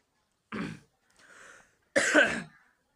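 Three separate coughs, the first and last sharp and loud, a softer throaty one between them, close with quiet gaps.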